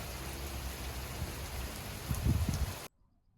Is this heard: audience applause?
no